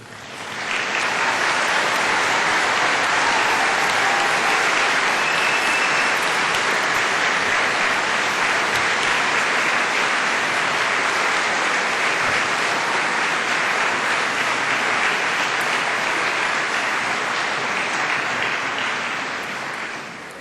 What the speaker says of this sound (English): giving them all a big round of applause